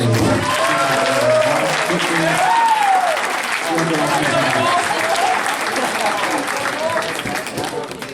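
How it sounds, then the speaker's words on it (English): A grad night hypnotist show crowd claps loudly and steadily for the parents, with cheers and voices mixed in, tapering off slightly toward the end. "I think a big round of applause for all the parents"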